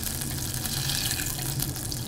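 Butter browning in a pan for sweet blueberry dumplings gives a steady, close hiss and sputter, now crackling less, with occasional pops as water evaporates, and no talking.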